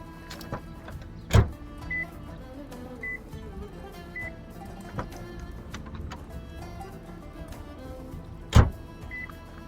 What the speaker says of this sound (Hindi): बेहतर है विंडोज़ ऊपर कर दें।